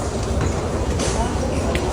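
Inside a moving MRT train in Kuala Lumpur, a steady, loud rumble of carriage and track noise fills the air, with muffled voices mixed into the background.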